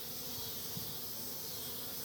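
Honeybees in a hive feeding on a pollen patty make a faint, soft, continuous buzzing hiss, low in level and steady throughout.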